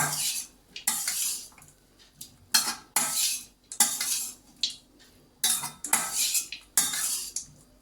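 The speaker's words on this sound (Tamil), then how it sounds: "கொத்தமல்லி தூவி ஒரு தடவை பரட்டி" Metal spoon scraping and clattering in a pan as coconut rice with coriander is stirred, several bursts of loud scraping strokes separated by short pauses, no voices.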